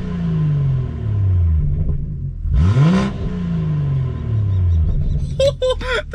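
A modified BMW with a turbo gives a low, steady exhaust rumble, then a rising turbo whistle swells as it revs. A short burst of fluttering, chattering turbo noise follows near the end.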